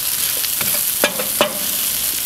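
Brussels sprouts and bacon stirred with a wooden spatula in a pan on a charcoal grill: a steady sizzle with a few scraping, knocking strokes, two of them louder, close up and no talking.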